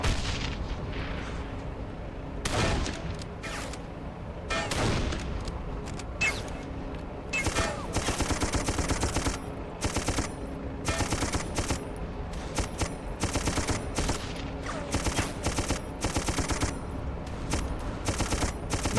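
Gunfire and mortar explosions on a World War I battlefield in the Darkest of Days game: sustained loud barrages of rifle and machine-gun fire punctuated by heavy booming blasts, with bursts recurring throughout and no clear speech.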